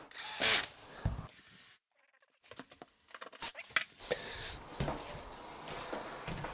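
A power drill set to its lowest torque drives small Pozidriv No. 2 screws into an Ikea Baggebo chair, with short bursts of whirring and ratcheting broken by a quiet pause, fairly close and loud.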